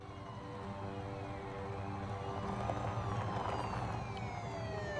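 A Seattle police patrol car siren wails with rising and falling sweeps as it approaches, steady and moderately loud over a low engine and traffic rumble, with no one speaking.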